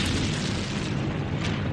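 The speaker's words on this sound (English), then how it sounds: "I've got a couple units in range, so they're going to get a barrage." An artillery barrage in the wargame Nations at War Digital: a continuous low rumbling roar of explosions, steady and fairly quiet, without distinct separate blasts.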